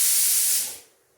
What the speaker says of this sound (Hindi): कुकर की सीटी बज गई थी